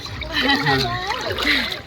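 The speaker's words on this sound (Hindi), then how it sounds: "भाई धारा इतनी तेज है ना यहाँ पे पानी की" Fast-flowing river water splashes steadily and close by during a cold Ganges bath, a continuous broadband rush with a child's and adults' voices talking over it throughout.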